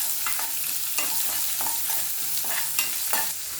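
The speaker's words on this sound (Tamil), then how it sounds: "இப்போ ஒரு பெரிய வெங்காயத்தை சின்ன சின்னதாக கட் பண்ணி இதில் சேர்த்துக்கிறேன்." Finely chopped big onion sautés in a pan with fried dal and curry leaves for a white karamani sundal snack. A steady close sizzle is broken by repeated scraping stirs of a spoon, with no voices.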